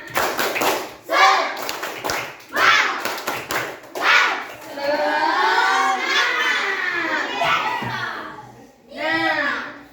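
Children repeat the tepuk semangat spirit clap in a classroom, patterned group claps alternating with loud chanted voices and shouts, followed by a long excited vocal stretch and a final shouted burst.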